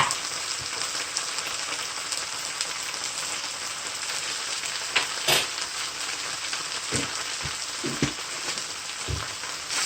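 Peppers sizzle and fry in a pan with thyme and curry powder in a steady, crackling hiss, with a few soft clinks and taps of utensils near the end and no voices.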